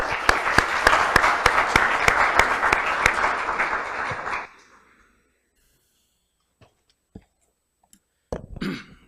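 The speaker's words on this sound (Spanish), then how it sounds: "lo vamos a recibir con un fuerte aplauso" An audience at a talk on a Peruvian law gives a speaker a loud welcoming round of applause, dense and sustained for about four seconds before fading into near silence, with a few isolated taps and a brief noise at the end.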